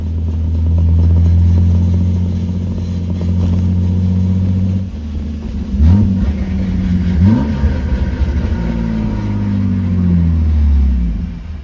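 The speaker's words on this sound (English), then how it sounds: "A lot of scraping going on." A BMW E36 drift car drives with a loud, close engine drone whose pitch rises and falls with revving. Faint clattering sits under the engine.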